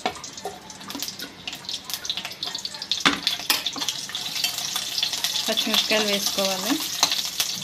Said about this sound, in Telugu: ఈ నూనె కాగాక పచ్చిమిరపకాయలు,